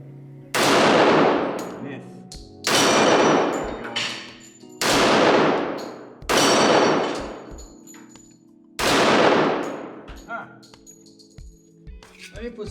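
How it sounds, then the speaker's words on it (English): Five loud, close pistol shots from a Smith and Wesson SW1911 E Series, spaced roughly two seconds apart, each a sharp crack with a long ringing decay, followed by faint metallic clinks. "Let's do some shooting, see if we miss."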